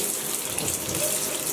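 Water gushes steadily from a bathtub tap into the tub for a French bulldog's bath, a continuous bright hiss and splash up close.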